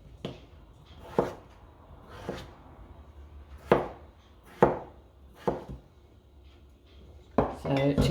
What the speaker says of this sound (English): slicing up our potatoes